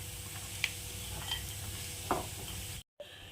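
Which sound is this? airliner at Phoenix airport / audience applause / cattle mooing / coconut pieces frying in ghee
coconut pieces frying in ghee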